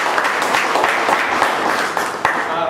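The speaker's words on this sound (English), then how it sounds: "Please give a big round of applause for Shreyas." Audience applause in a hall for a speaker taking the stage, a dense, steady wash of clapping at moderate loudness lasting throughout, with a few louder claps standing out.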